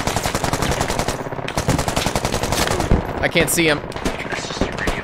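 Automatic rifle fire rattles loud and close in the military shooter game Squad, one long sustained burst emptying a whole magazine, with short spoken words partway through.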